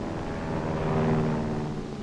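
A fixed-wing airplane sweeps past during a simulated air attack, a steady broad engine roar that swells slightly toward the middle and eases off, with no talk over it.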